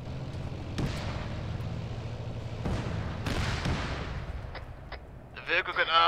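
A tank cannon fires at a T-34 in a war video game: several heavy booming blasts ring out a second or two apart, with rumbling battle noise between them and voices near the end.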